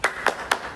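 Three sharp, evenly spaced hand claps ring out close and crisp, part of a children's 'tepuk semangat' clapping pattern at an Indonesian outreach session.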